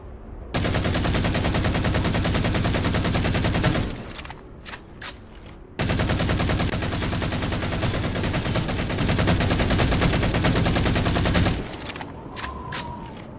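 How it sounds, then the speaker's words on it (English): Heavy sustained gunfire from Halo weapons, two long loud continuous bursts separated by a brief pause with a few sharp clicks, then another short clicking gap at the end. "That's how you shoot a gun."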